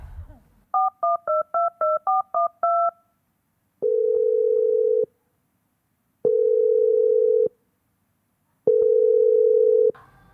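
A telephone call goes out as a quick run of touch-tone dialing beeps. Three long, even ringback tones follow, separated by silence, and end as the call is answered. The tones are clear and close.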